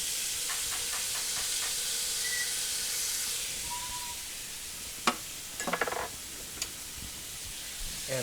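Celery, tomatoes and onion hit hot bacon fat for a shrimp and chicken jambalaya, giving a loud, steady sizzling hiss throughout, with a few scraping stirs and clinks of a spatula against the pan.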